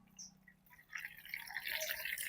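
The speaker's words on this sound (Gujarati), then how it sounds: "હવે આપણે બોટલનું ઢાંકણ ખોલીને એમાં પાણી ભરી દઈશું જેથી પોતાની જગ્યા ઉપરથી હલે નહીં" Water is poured from a jug into the plastic base bottle of a tennis trainer, a faint trickle that swells into a steady, gurgling fill.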